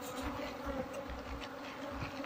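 A dense, steady buzz of many wild bees swarming at a nest in a woodpile, continuous and fairly close, with no voices.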